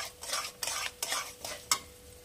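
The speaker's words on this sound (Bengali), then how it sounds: "মশলাটা এবার আমি ভালো করে কষিয়ে নেব।" A spatula scrapes and stirs a spice mix sizzling in a pan for Rajasthani dhaba-style chana dal, in soft repeated strokes over a low, steady fry.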